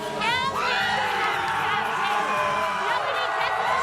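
Loud, dense crowd noise outside GCU Arena before a men's basketball game against New Mexico State, with continuous cheering, whoops and shouting voices.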